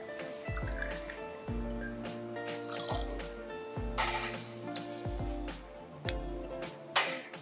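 Botanist gin is poured into a glass over ice for a house Negroni, a gurgling, dripping fill with a few sharp clinks, set against faint background music.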